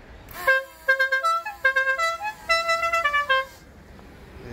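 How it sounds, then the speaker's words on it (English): A loud air horn on a quad bike honks in a rapid series of short, tuneful blasts, several patterned bursts in a row, close by. "I'm going to push my air horns."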